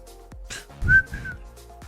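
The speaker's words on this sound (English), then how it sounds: "whenever good music plays, I just instinctively whistle into the microphone" A person whistles close into a microphone, a short clear tone held for about half a second amid faint breath and small noises.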